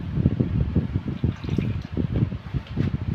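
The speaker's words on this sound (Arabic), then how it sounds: "وهنحط شويه خل" Vinegar splashes and trickles into a chicken marinade for shish tawook, a short irregular liquid pour that is close and fairly loud with no talk over it.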